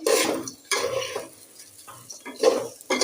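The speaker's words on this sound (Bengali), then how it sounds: "এলাচ দারচিনি তেজপাতা দিয়ে তেলের উপর পেঁয়াজ ড্রেসটা দিয়ে ভেজে নিচ্ছি" Onions frying in hot oil with cardamom, cinnamon and bay leaf, with a spatula stirring and scraping the pan in several bursts over a steady sizzle; close by and moderately loud.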